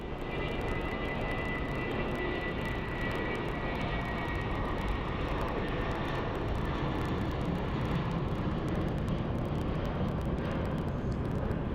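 An Airbus airliner taxis at Phoenix Sky Harbor International Airport, its engines giving a steady, loud, broadband roar that holds constant throughout with no talk.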